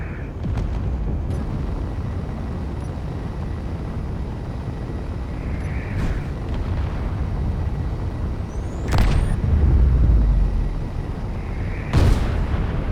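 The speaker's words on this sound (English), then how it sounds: "why are my thrusters firing like that?" Spaceship thrusters in Space Engineers give off a steady, roaring rumble. A few sharp bursts and thumps rise above it, with a heavier low surge near the end.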